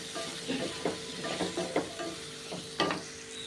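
Chopped small onions sauté in a pan for a rock fish roast, giving a soft, steady sizzle with several scraping stirs of a spatula, fairly quiet and with no voices.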